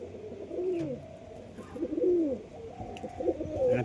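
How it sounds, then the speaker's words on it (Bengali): Pigeons give close, clear cooing calls, three rising-and-falling coos spaced about a second apart, with light rustling in between and no voices. "পায়রা প্রচুর ছটফট করছে"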